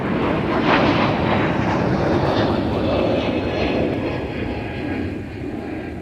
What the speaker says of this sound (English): Runway 30 left, clear for takeoff.